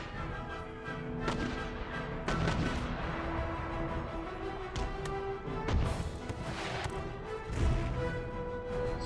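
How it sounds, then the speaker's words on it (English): Artillery in the video game Empire: Total War bombards an enemy colonial infantry line with repeated booming blasts and cracks at irregular intervals over a rumbling battle backdrop, with no talk. "Get my artillery to start to pound the colonial line of foot to the rear."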